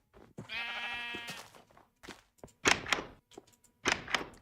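A Minecraft sheep lets out one drawn-out, wavering bleat near the start, followed by several sharp, close thunks and clicks from game actions.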